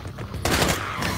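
Rapid gunfire in the VR shooter Drop Dead Dual Strike bursts in suddenly after a quieter opening and stays as a dense, loud, continuous volley to the end.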